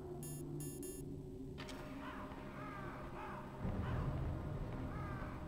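Crows caw repeatedly in a Metal Gear Solid video game, several hoarse calls spaced out over a steady ambient hum, with electronic beeps at the start.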